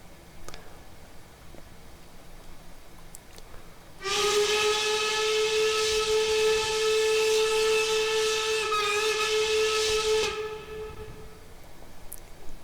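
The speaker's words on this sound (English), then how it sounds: "Without a doubt, the best hooter whistle in this game." The hooter steam whistle of the 999 4-4-0 locomotive in the game Train Simulator Classic blows one long, loud, steady chord-like blast of about six seconds, starting and ending abruptly over a quiet hiss of background.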